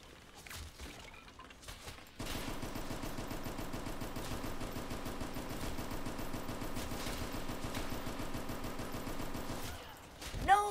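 Sustained rapid automatic gunfire in a video game starts abruptly and runs steadily for several seconds, loud and dense, before cutting off near the end.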